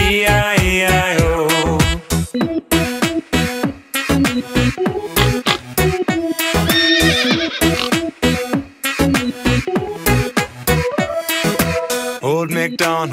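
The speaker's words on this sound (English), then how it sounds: "And on his farm he had a horse, E-I-E-I-O. With a neigh neigh here and a neigh neigh there" Horse neighing in a nursery-rhyme farm song, with repeated loud, close whinnies in rhythmic bursts over a bouncy musical backing.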